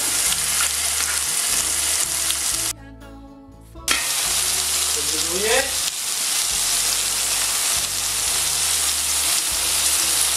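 Red onion fries in a pan with a continuous crackling sizzle, broken by a brief quiet gap and a scraping stir before the frying resumes steadily.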